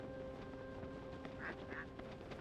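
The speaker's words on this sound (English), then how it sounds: "It's a duck!" A duck quacking in The Legend of Zelda: Tears of the Kingdom, two short nasal quacks in quick succession, faint under steady game background sound.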